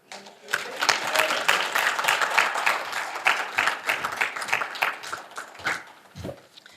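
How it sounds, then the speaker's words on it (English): An audience at a Relay for Life kick-off event applauds, a dense run of steady clapping that swells and then tapers off, with a few voices underneath. "Let's give everyone one more round of applause"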